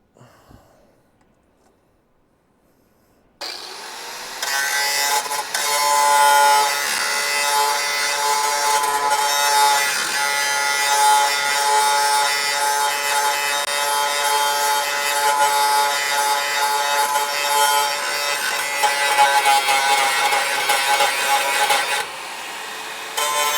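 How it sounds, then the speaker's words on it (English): A grinding wheel smooths a metal edge on a Charger body during restoration, a steady loud abrasive grind running about twenty seconds without a break before cutting off. "I'm gonna go at it with the grinding wheel again"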